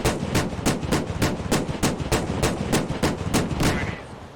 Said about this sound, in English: Here's a ZSL fighting an LAV.